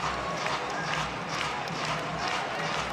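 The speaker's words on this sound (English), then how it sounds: "the Cardinal faithful on their feet, clapping the set point for the Card" Stanford volleyball fans on their feet in an arena at set point, a dense, steady wash of crowd noise with rhythmic clapping and cheering at a distance, no single voice standing out.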